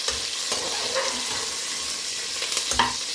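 Drumstick pieces going into a pan of toor dal and chana dal sambar, a steady close sizzle broken by a few soft stirring scrapes and clunks of vegetable against the pan.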